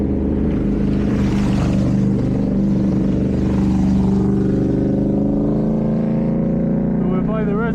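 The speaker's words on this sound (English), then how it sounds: "As you'll see in a second, I think one's coming past us." A motorbike roars past on a rural track near a reservoir in Spain during a rally, its engine loud and close as it sweeps by, with people talking underneath.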